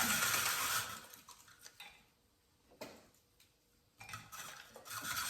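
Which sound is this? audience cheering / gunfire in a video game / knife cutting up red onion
knife cutting up red onion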